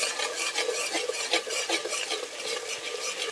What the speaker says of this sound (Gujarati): પછી 2 મિનિટ હલાવવાનું.